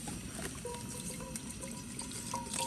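Water pours steadily into a pot outdoors at a monsoon-season spot near Bhairav Kunda, a continuous close trickling splash with no pauses.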